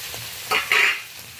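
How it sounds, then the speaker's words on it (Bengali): Ginger paste sautéing with tomato, onion and garlic paste in a pan gives a short, close sizzle with two quick stirring scrapes, and no voice present. "আদা বাটা দেওয়ার পরে এইটা আরও একটু সময় ধরে ভালো করে কষিয়ে নেব"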